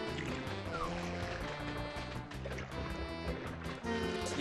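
Paddling and splashing through water in the Super Mario Sunshine video game, a soft continuous watery churn running under dense, busy game music.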